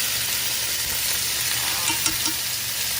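Salmon sizzles in a hot pan for teriyaki, a dense continuous frying hiss with faint crackles and a few soft clinks, close and steady with no voices.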